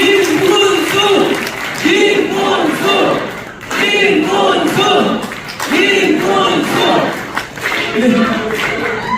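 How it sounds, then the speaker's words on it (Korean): An audience at a Korean youth leaders' academy launch ceremony cheers and claps in repeated surges, loud crowd shouts rising and falling in several waves with applause underneath. "우리 박수 한번 응원하는 거죠"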